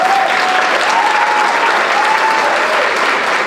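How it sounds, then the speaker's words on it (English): Steady applause from a large audience at an evening gala fills the whole stretch, dense and even, with a faint tone running underneath. "Let's give Stephanie another big round of applause."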